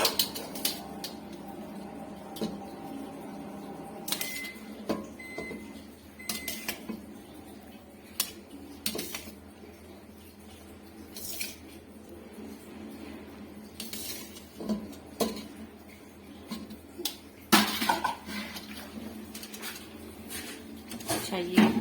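Metal pots and utensils clink and scrape as rice is layered into a pot for Sindhi mutton biryani, with scattered sharp knocks and clatters over a low kitchen background and a voice speaking.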